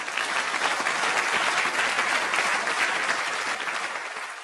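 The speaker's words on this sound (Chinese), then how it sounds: "我一说出来，掌声四起" A crosstalk comedy stage show audience on a Tianjin TV program bursts into sustained, dense applause that holds steady and then starts to fade near the end.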